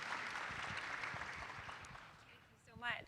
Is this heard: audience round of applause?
yes